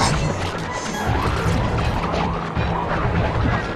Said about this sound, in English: The mechanic keeps throwing the wrenches at me.